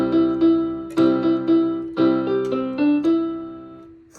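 Piano plays a simple children's beginner note pattern in the right hand, single notes and a repeated chord struck one after another in an even, steady rhythm, each note ringing and decaying, close and clear with no talking.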